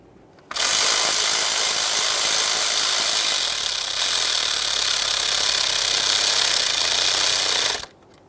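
A power tool drives in an ignition coil mounting bolt on a Ford F-150 3.5L V6. It makes one continuous high, buzzing whir that lasts about seven seconds at close range and then stops abruptly, with no speech.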